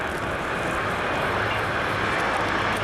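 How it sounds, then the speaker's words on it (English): An aircraft landing on the runway at the 1992 Farnborough Airshow, heard as a steady, loud, broad engine roar that holds constant throughout the short stretch, with no voices over it. "He's landing well up the runway because he's got the 2000 coming in behind him."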